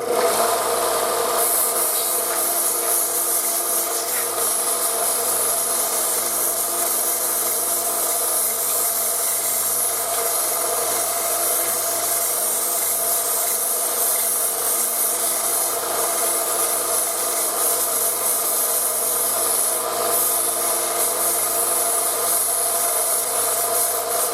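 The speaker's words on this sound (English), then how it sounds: "I'm going to grind this one up a little bit more." A part of an 1851 Navy single-action revolver is ground down, producing a steady, loud, unbroken grinding whine with a constant motor tone that runs for the whole stretch without talk.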